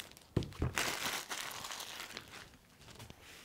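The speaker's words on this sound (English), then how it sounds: "So obviously we got some plastic wrap around here." Plastic wrap crinkles and tears as it is stripped from a wooden whiskey stones gift box, with close, busy crackling bursts and a couple of sharp rips early on, fading to softer rustling.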